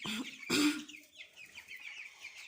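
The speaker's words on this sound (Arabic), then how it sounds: "احنا دي الفراخ اللي أنا كنت جايباها معاكم اهيني" Fifteen-day-old chicks cheep in quick, high chirps after a brief louder rustle, fairly faint and close with no talking.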